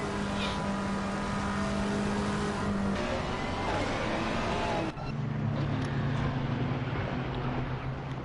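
A Ferrari GT3 race car accelerating hard through a corner exit at Monza in Assetto Corsa Competizione, its engine droning loud and close and rising in pitch before an upshift and another climb.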